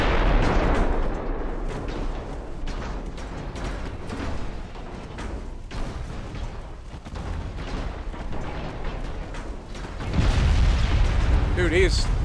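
Battleship artillery fire in the naval game Ultimate Admiral Dreadnoughts, a string of booming gun blasts and explosions rumbling through the battle, with heavy, loud salvos near the end and voices talking over the gameplay.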